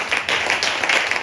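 A church congregation applauds during a sermon, a dense, steady wash of many hands clapping close by for the whole moment, with no voices over it.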